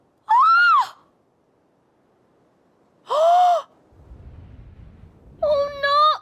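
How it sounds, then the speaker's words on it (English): A character in the Nod-Krai Archon Quest gasps in shock, with two short, loud, strained vocal bursts about three seconds apart and a third cry at the end, over a low rumble of game background sound. "I heard Yehoda gasp, but I don't blame her."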